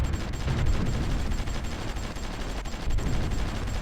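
Artillery firing in the strategy game Supreme Ruler Ultimate, a dense, continuous barrage of gunfire and booming shots with no pause, loud and close.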